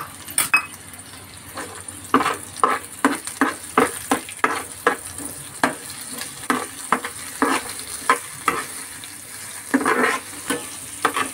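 Cumin and mustard seeds sizzle in a hot pan for Maharashtrian zunka, a steady frying hiss broken by repeated close scrapes and clinks of a spoon stirring against the pan.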